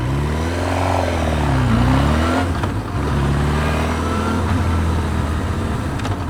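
A sports motorcycle engine accelerates up through first gear, its pitch rising, then briefly dips at a shift before pulling on steadily in second, close and loud throughout.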